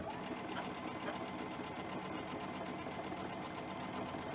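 A sewing machine runs a continuous double stitch through cotton fabric, a steady rapid mechanical whir and needle patter heard up close without pause.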